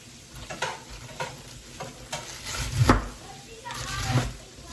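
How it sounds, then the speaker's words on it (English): Sausages sautéing in a pan give a continuous close sizzle, broken by stirring scrapes and utensil knocks, with a voice speaking faintly underneath. "AJ is still sauteing the sausages."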